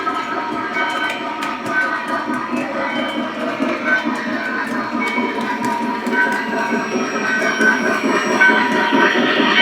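Lionel Commodore Vanderbilt model steam train running steadily on its track, a continuous busy rumble with rhythmic clicking and mechanical chuffing detail, fairly close and even in loudness throughout.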